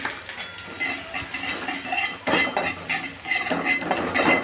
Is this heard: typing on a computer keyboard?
no